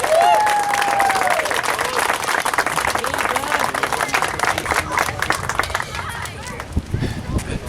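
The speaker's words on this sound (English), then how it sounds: "So a round of applause, please." Dense audience applause fills a ceremony honoring a man's 50 years of service with a recreation program, steady and loud throughout, with cheering and voices mixed in and a brief whistle near the start.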